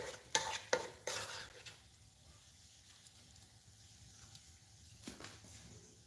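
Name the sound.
white fish frying in a pan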